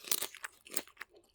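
Several crisp crunches of tortilla chips in a Santa Fe style salad bowl with chicken, close and bitten in quick succession, no talking.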